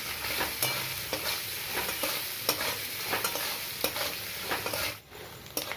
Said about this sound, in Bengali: আমি এই তেলেই ভেজে নেব নারকেল কুচিগুলো